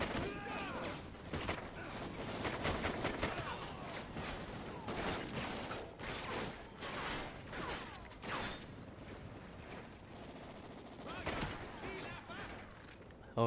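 Rapid gunfire from the video game Call of Duty Ghosts, dense bursts of shots and blasts repeating steadily throughout, loud and busy, with a player's voice talking over the action.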